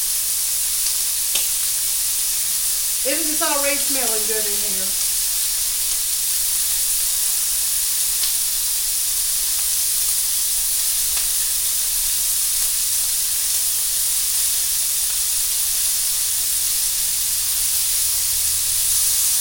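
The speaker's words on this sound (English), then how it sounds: "I'm going to get these cooking and get them sizzling and crispy." Slices sizzle steadily as they fry crispy in a hot pan, a constant bright hiss throughout, while a voice speaks briefly near the start.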